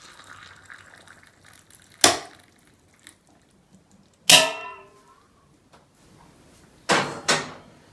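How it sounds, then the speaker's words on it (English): A bone china cup cracks sharply when hot water is poured in, giving a sudden crisp snap with a brief ringing tail, set among a few other short clinks and knocks in a quiet kitchen. "Well, that smashed the bone china cup."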